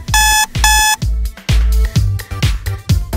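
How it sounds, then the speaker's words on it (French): A loud alarm clock rings in repeated bursts of bright, piercing electronic tones, each burst pulsing with a heavy low thump, cycling steadily for several seconds with no voices. "votre réveil bruyant vous fera savoir qu'il est temps de vous remettre au travail"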